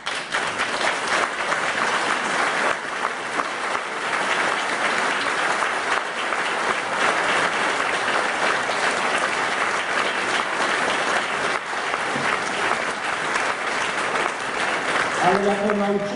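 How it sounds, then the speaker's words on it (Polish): An audience at a big band concert gives a long, steady round of applause for young musicians, dense clapping that stays strong throughout, with a voice and music starting faintly near the end. "poproszę o wielkie brawa dla tych artystów"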